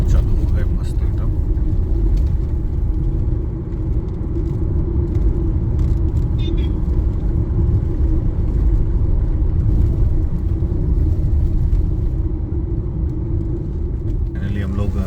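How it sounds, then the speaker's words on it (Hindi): Road traffic on a busy highway out of Aurangabad, heard from inside a moving car as a constant loud engine and tyre rumble, with people talking over it. "ये रोड पे बहुत ट्रैफिक रहती है।"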